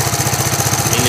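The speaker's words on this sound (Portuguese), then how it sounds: "Aí ele vai e faz isso, ó, acelera, ó." A motorcycle engine runs loud and close during a charging-system test of a three-phase stator, with a steady, throbbing mid-pitched drone and rapid, even pulsing and no talk.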